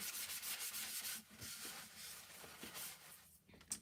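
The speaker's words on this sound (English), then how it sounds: "I'm just gonna kind of rub the paint a little bit" Paint is rubbed by hand on a Christmas craft project, a soft continuous scuffing and rubbing, faint and close, with uneven strokes.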